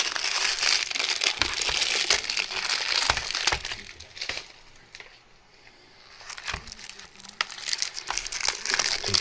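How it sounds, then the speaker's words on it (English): Cellophane wrapping is peeled off an unboxed disc case with crackly crinkling and sharp crisp bursts, close up. A quieter lull comes midway before the rustling picks up again. "let's get the cellophane off there"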